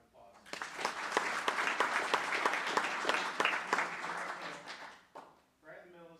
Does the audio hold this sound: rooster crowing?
no